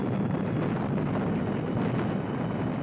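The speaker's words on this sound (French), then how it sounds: "Seconde explosion." A second explosion from burning ammonium nitrate, a dense, roaring blast rumble sustained at steady loudness, heard alone without speech.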